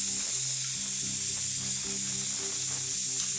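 Spices sizzle in hot oil during tempering, a loud, steady hiss of frying that fills the whole stretch. A faint tonal hum runs underneath.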